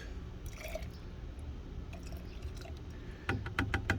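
Store-bought white vinegar pours into a container, a low liquid gurgle and trickle running under steady background noise, with splashier, louder dripping near the end.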